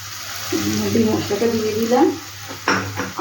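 Spice masala paste dropped into a pan of jackfruit kofta curry base, frying with a sizzle and stirring scrapes while a voice talks over it, then a sharper burst of sizzling near the end.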